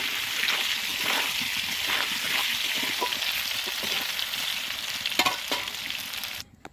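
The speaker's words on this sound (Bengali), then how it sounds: "আমার আলু ভাজা হয়ে গেছে" Potatoes sizzle and crackle steadily in hot oil in a kadai, with occasional stirring and scraping sounds, then the frying noise cuts off abruptly at the end.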